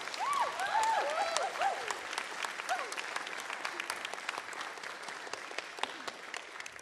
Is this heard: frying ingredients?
no